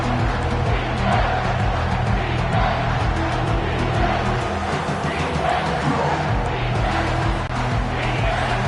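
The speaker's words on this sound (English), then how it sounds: "Decibels rising as the crowd gets behind this defense on 3rd down." Dense, roaring football stadium crowd noise swelling behind the defense on a third-down play, a steady loud wash of cheering that holds throughout with no gaps.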